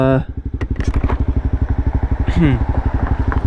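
A Honda CBR300R motorcycle engine pulses steadily and loudly up close, its rapid firing beat rising in pitch as it accelerates, with a rider speaking over it.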